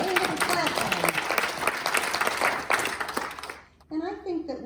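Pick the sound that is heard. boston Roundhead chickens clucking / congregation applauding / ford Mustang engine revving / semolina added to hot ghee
congregation applauding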